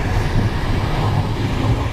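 A short train in the Roblox Train Sim game gives a brief, loud, close rumble of rolling wheels and engine noise with no talking.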